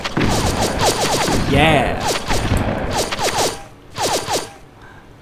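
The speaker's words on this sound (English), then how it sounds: "Shotgun, ridiculously OP in this game." Rapid video-game shotgun blasts in Miami Traffic 2 crack out in quick bursts with a short mechanical pump sound between volleys, loud and close, while a voice shouts once.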